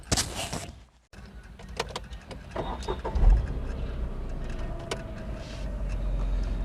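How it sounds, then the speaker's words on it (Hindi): A car engine cranks and catches inside the cabin after a brief silence, then settles into a steady idle close by, heard during a driving lesson on shifting gears. "ये हमने गाड़ी को स्टार्ट कर दिया।"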